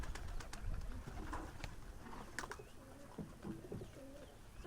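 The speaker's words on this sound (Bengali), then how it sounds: "ওই তো কবুতর দেখতে পাচ্ছেন" Pigeons coo softly nearby in a loft, low repeated throaty calls with some fluttering and faint background noise.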